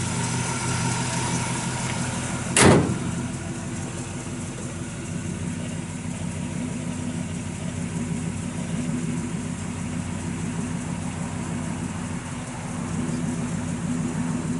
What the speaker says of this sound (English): It's got a nice Flowmaster dual exhaust. The thing just purrs like a kitten.